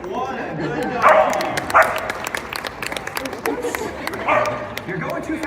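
A dog barks and yips during a treibball demonstration at a dog-training event, several sharp barks in the near field mixed with clapping from the crowd, while a person talks over it.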